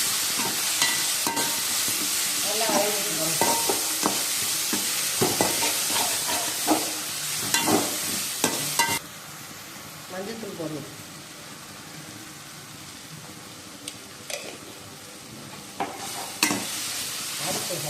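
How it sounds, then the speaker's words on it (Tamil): Onions and tomatoes sautéing in a pan for crab gravy: a steady sizzle and hiss with clattering stirring scrapes, while a voice talks intermittently in Tamil over the cooking. "இன்னும் கொஞ்சம் வதங்கணும் வெங்காயம் தக்காளி வதங்கினா தான் நல்லாயிருக்கும்"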